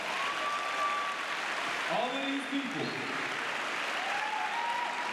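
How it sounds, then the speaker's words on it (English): Sustained applause from a high school audience at an anti-bullying conference, steady and fairly loud throughout, while someone speaks over it. "Give a round of applause."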